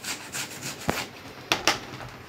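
Peeled cucumber rubbed against a small hand grater, a soft scraping rasp repeating in steady strokes with a few sharper knocks, close and alone without talk.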